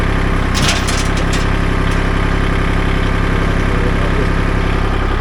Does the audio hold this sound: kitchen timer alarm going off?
no